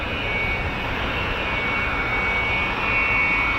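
Aircraft arrive at the RAF Fairford air show with a loud, steady, broadband engine roar and a faint high whine, sustained without a break and with no voices.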